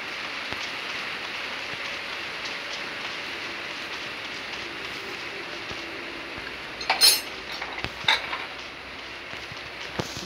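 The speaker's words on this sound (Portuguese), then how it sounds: "Olha o barulho da chuva." Steady rain hisses across the surface in the PUBG Mobile battle royale game, a continuous even wash with a few brief clinks and taps rising over it midway.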